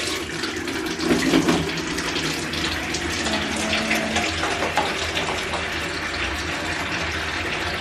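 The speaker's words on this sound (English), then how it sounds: "I'm just gonna fill it up with some warm water." Warm water runs steadily from a tap into a bucket, a continuous loud, close rushing and splashing that holds level for several seconds with no talking.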